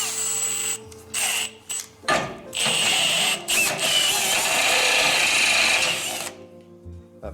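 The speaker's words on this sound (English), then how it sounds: "Let's try the step drill, see how it" A step drill grinds through the metal body of a Honda S600 with a high, whining screech in bursts of varying length, then long continuous cutting before it stops, close by with some speech around it.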